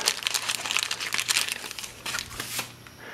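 A reproduction spanner wrench is pulled from its plastic package, giving close, bright crinkling and crackling of plastic in quick irregular bursts that ease off toward the end.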